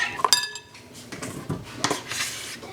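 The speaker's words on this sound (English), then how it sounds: "And just stir a little bit to dissolve the sugar." A utensil stirs sugar into a bowl to dissolve it, with repeated clinks and scrapes against the bowl. The strokes come in an uneven rhythm and are heard up close with no talking.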